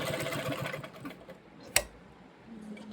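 A sewing machine runs a double-foot seam with a steady, busy mechanical chatter, easing off midway, marked by one sharp click, then returning as a low hum.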